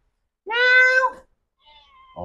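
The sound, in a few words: cat meowing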